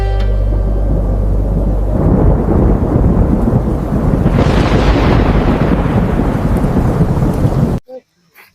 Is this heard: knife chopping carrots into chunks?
no